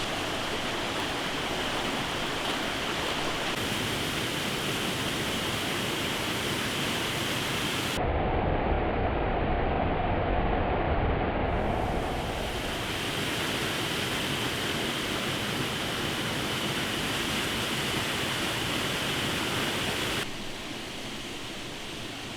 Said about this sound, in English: Made a quick pull off over here at this waterfall.